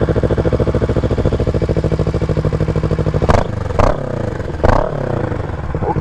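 A Kawasaki ER6N motorcycle engine idles with a steady, throbbing pulse, then the rider blips the throttle in three sharp revs that rise and fall back to idle.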